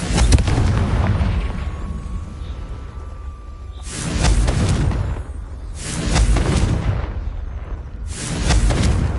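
Three heavy booming blasts from the Confringo fire spell in Hogwarts Legacy, each a loud, close explosion with a rushing burst and a long rumbling decay, spaced a couple of seconds apart after a fading earlier blast.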